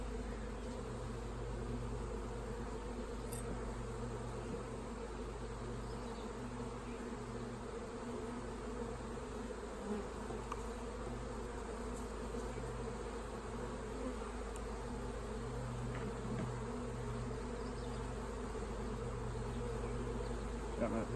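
Honey bees drone in a steady, dense hum from an open hive during a varroa mite check, close and continuous for the whole stretch, with no talking.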